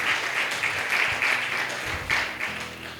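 Church congregation applauding together in praise during a Spanish-language sermon, a steady dense clapping that holds for the full stretch, with faint swells and no voices over it.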